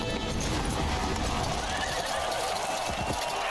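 A horse whinnies amid the clatter of a movie jousting bout, mixed with hoofbeats and dense crowd and action noise that stays loud throughout.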